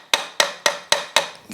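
A hammer tapping the gear housing of a Mercury 40HP outboard back into place, five evenly spaced sharp metallic knocks close up, followed by a faint shuffle.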